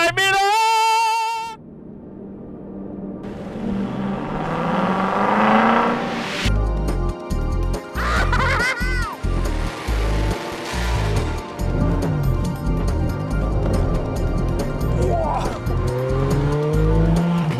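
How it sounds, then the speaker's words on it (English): A Chevrolet Camaro SS with a 6.2 V8 revs hard and accelerates on a country road, its engine roaring loud and close while the tires squeal in repeated bursts; faint music plays at the start. "I'm driving a Camaro SS, which is a crazy car for crazy people"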